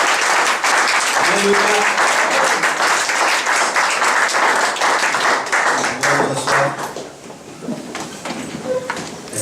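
Congregation clapping and cheering loudly during a church service, sustained applause with voices calling out, fading somewhat toward the end.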